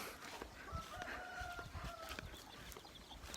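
Chickens cluck and a rooster crows on a rural home farm, the long tonal crows rising over scattered clucks at a moderate distance, with no talking.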